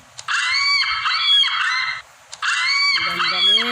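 An ostrich call played back by the Animal 4D+ app: two long, loud, harsh honking bursts with a buzzy tone, separated by a brief pause, the second ending in a lower groan.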